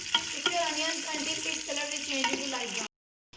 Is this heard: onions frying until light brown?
yes